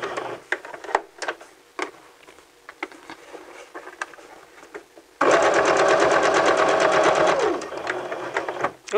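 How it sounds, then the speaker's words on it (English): A sewing machine stitches fabric, a steady fast needle whir starting partway through after quieter handling sounds and running loud and continuous to the end. "don't lift that presser foot while the needle is still moving"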